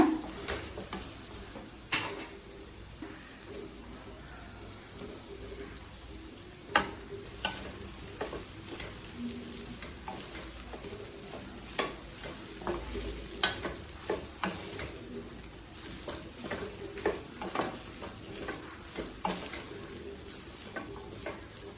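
Spice powder sautéing in a pan for chana rice, with a utensil stirring and scraping in irregular taps and a soft, steady sizzle underneath; fairly quiet and close, with no talking.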